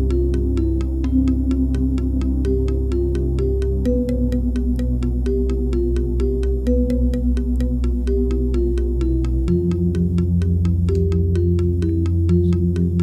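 Balinese gamelan jegog with deep bass, arranged and sequenced in a DAW: resonant bamboo-toned pitched strikes in a steady repeating rhythm over sustained low bass notes that shift pitch partway through, loud and continuous.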